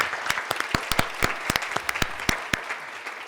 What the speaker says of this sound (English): I want to invite you to give a round of applause to our speakers.